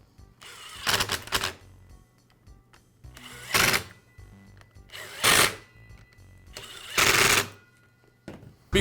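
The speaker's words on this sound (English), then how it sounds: "Now reinstall the top half of the handle and secure it with the screws." A power screwdriver drives screws to fasten the handle on a DeWALT circular saw, four short whirring bursts spaced about two seconds apart with quiet gaps between, close and clear.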